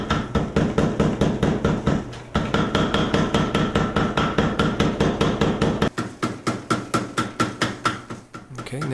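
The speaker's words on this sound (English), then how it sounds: "The feel of the steel moving underneath the power hammer is really exhilarating." A power hammer pounds a hot steel billet being forged into a Japanese sashimi knife, striking in a loud, rapid, steady rhythm with a brief pause and a change in the blows partway through.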